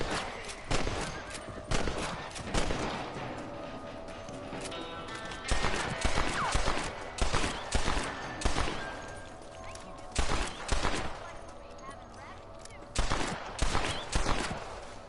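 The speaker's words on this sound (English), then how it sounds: "Better shoot that outlaw." Repeated gunshots ring out in a Red Dead Redemption story-mode shootout against an outlaw, loud sharp blasts in irregular bursts and clusters, with galloping hoofbeats and horse sounds running underneath throughout.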